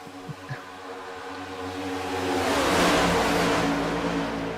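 AI race cars at Talladega in a NASCAR-style racing game: a couple of faint thumps give way to engines swelling into a loud roaring pass, a car droning by close and holding its note.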